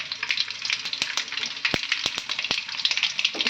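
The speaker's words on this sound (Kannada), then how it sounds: "ಇವಾಗ ಸ್ವಲ್ಪ ಈರುಳ್ಳಿ ಕಟ್ ಮಾಡಿದ್ದೆ ಅದನ್ನು ಹಾಕೊಳ್ಳೋ ಒಗ್ಗರಣೆಗೆ" Chopped onions hit hot oil for tempering with a loud, continuous bright sizzle, punctuated by a few sharp taps of a spoon stirring the pan.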